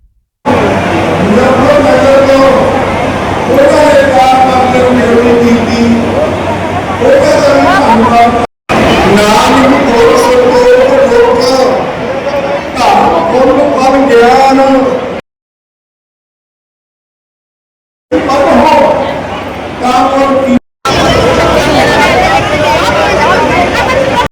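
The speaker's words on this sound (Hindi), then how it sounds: "तो ये देखिए कितनी भीड़ है, बरसी है ना तो दूर-दूर से लोग आए हुए हैं" A large, noisy crowd gathered for a barsi remembrance near a gurdwara, with loud, close, overlapping chatter and speech babble in long stretches broken by brief gaps of silence.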